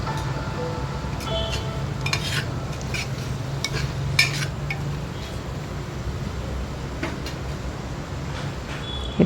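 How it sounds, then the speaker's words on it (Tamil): Sliced mushrooms are stirred into masala in a pan for mushroom biryani, giving a steady soft sizzle with repeated scraping and clinking of a spoon against the metal, close and continuous. "இப்போ நம்ம நறுக்கி வச்சுருக்கிற காளானையும் சேர்த்து இந்த மசாலாவோட நல்லா பிரட்டி விட்டுக்கோங்க"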